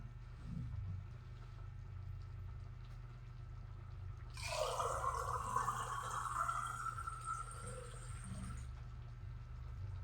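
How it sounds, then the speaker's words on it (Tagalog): Water pours steadily into a cooking pot of vegetables in sauce, with a splashing, filling rush that starts partway through and continues to the end, over a low background hum; no talking. "Lagyan natin ng tubig, baka mawala ng sauce yan"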